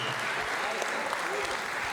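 A crowd applauds soldiers at a restaurant celebration with sustained, dense clapping throughout, and a voice talks over it.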